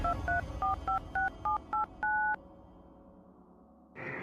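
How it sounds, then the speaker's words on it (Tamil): Telephone keypad tones beep in a quick series of about nine dual-tone presses as someone dials a call to an aunt, followed by a pause and then a faint line tone; no talking. "சரி அத்தைக்கு ஃபோன் அடிப்பேன்."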